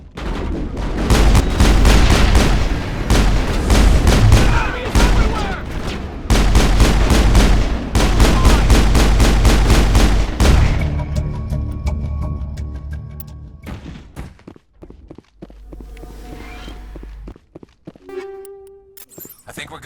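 A Mass Effect firefight erupts with rapid bursts of loud automatic gunfire, rhythmic and close, continuing in sustained volleys for about ten seconds before fading into quieter ambient sounds and scattered tones.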